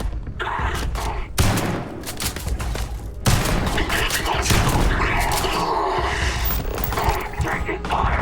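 Dense gunfire from the sci-fi video game Starfield, with loud rapid bursts and booming shots that run almost continuously and stay close and harsh, briefly cutting out twice before resuming. Game voices are heard beneath the firing.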